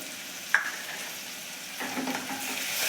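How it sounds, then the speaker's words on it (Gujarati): Spices for Kathiyawadi vaghareli khichdi sauté in hot oil in a pan: a steady, close sizzle that rises slightly toward the end, with a brief sharp clink of a utensil near the start. "હવે આ મસાલાને એક મિનિટ માટે સતડાવા દઈશું"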